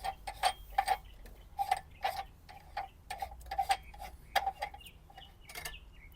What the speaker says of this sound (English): And we're going to unscrew this collar.